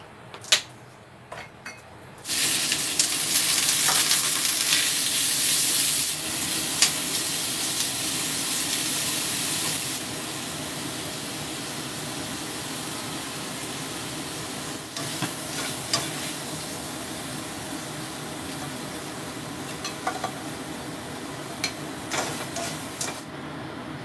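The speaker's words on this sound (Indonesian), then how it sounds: "Pokoknya diurek-urek gitu biar minyak itu kemana-mana gitu, nggak ngumpel." Meat and vegetables stir-fried in hot oil in a wok, a steady loud sizzle with intermittent clatter of the utensil stirring, running continuously for about twenty seconds with no talking.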